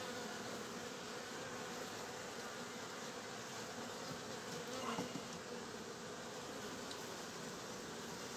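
Honey bees buzzing inside an opened beehive, a dense, continuous swarm drone that holds steady and close throughout with no voices.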